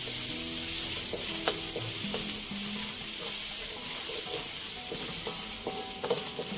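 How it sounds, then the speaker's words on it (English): Spicy cornflakes snack ingredients fry in a pan with a constant close sizzle, broken by occasional light scrapes and taps of a stirring spoon, with no talking. "Fry until fragrant."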